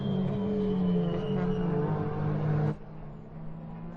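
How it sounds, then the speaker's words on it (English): GT race cars lapping the Slovakiaring circuit in an endurance race, engines roaring loud and close as cars pass through traffic, with the sound cutting abruptly to a lower, more distant drone near the end. "the cars navigating traffic, and that is the GTC AM entry of Emilio Damante overtaking the Audi of BF Motorsport"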